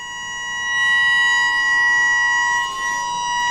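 A steady 900 hertz test tone drives a Kundt's tube, holding as a loud, pure whistle with bright overtones for several seconds and rising slightly in strength midway.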